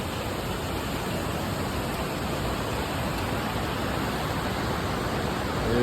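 Broad, steady roar of falling water at the base of Whitewater Falls, loud and continuous with no voices.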